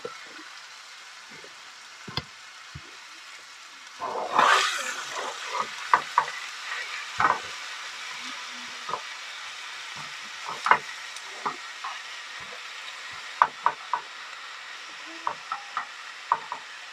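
Food sizzles in a pan on a camping stove inside a budget day van, with a burst of frying hiss followed by scattered clicks, scrapes and light knocks of cookware, close and moderate in volume with no talking.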